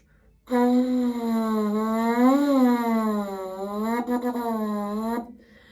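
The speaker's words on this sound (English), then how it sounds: "is a sustained buzzing sound" A sustained, reedy lip buzz through a French horn mouthpiece, held for several seconds with a slight wavering pitch rise and fall before cutting off.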